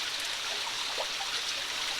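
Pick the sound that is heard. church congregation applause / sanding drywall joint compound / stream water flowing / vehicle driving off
stream water flowing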